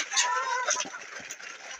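Healthy farm chickens cluck softly while feeding in winter, several brief close calls over the faint scratch and peck of eating, with no talk.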